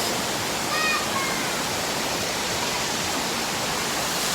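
Chenku waterfall in Accra, Ghana, pours as a steady, dense rush of falling water, loud and continuous throughout, with a brief faint chirp near the start.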